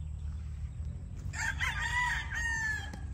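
A rooster crows once, loud and fairly near, on a large chicken farm, over a steady low hum of background noise.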